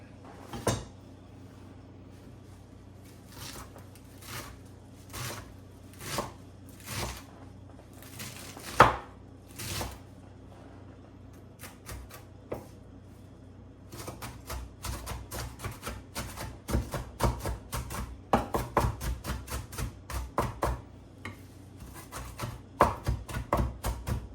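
Knife chopping garlic on a cutting board for guacamole, a steady run of sharp, close taps that come in short bursts before speeding into a denser, quicker rhythm toward the end.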